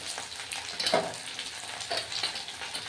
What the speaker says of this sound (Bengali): পাঁচফোড়নটা দেওয়ার পর এর মধ্যে এখানে আমার একটু পেঁয়াজ আর লঙ্কার কুচি রয়েছে, এইটা একটু এর মধ্যে মিশিয়ে দিই